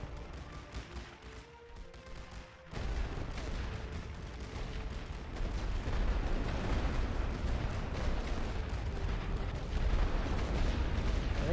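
Artillery barrage in The Great War Western Front game, a dense, continuous roar of blasts that swells louder after a quieter start and keeps rumbling without a break.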